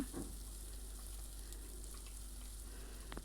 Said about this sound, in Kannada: ಈರುಳ್ಳಿನ ಸ್ವಲ್ಪ ಬಾಡಿಸ್ಕೊಳ್ಳೋಣ